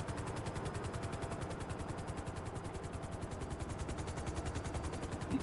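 Helicopter in a video game: a steady, fast rotor chop thrumming continuously at moderate level, heard alone without voices.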